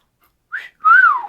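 A person whistles two short rising-falling notes, a brief chirp followed by a longer sustained tone that sweeps down, alone and close without any talk.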